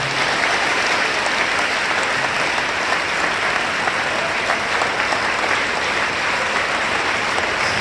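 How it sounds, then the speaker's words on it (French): Sustained applause from a church congregation after a choir performance, a dense, even wash of clapping that carries on loudly for several seconds without speech. "Bon, allez, applaudissez pour aller encore."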